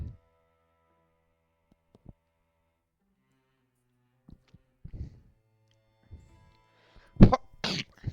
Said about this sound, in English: Had a bit of coughing